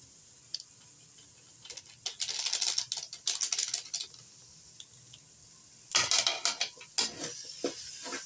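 Chicken is sautéed with masala powder in a pan, making bursts of close crackling and sizzling patter with scraping stirs. Between the bursts it goes quiet.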